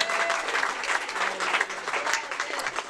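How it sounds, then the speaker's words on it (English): Dense applause from a large audience, steady and loud throughout, a wash of many hands clapping at once. "I love the sound of that many claps."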